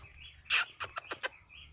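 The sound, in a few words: songbird singing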